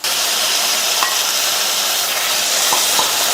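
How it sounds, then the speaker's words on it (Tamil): Chopped tomatoes and ginger-garlic paste sizzle steadily in a pan while being sautéed and stirred for a gravy, a continuous close frying hiss with a few faint clinks of the spoon against the pan. "இந்த தக்காளியையும் 1 நிமிஷத்துக்கு நல்லா வதக்கி விட்டுக்கலாம்."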